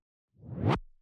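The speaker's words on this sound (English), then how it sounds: "Now we'll add this reverse wobble sound." A reverse wobble effect made in FL Studio rises from silence in a fast, swelling whoosh, then cuts off abruptly after about half a second.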